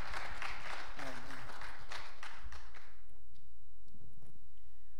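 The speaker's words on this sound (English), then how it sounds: "Clap your hands for Jesus" Wedding guests clap for Jesus during the ceremony, a burst of scattered applause for about three seconds that quickly thins out and fades to quiet.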